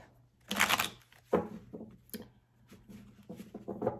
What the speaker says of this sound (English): I'm going to do 3 more shuffles for Leo.